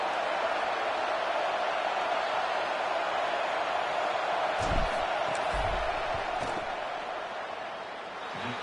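Crowd noise filling a college football stadium as the field goal unit lines up, a loud, steady roar of thousands of fans with brief surges of shouting partway through.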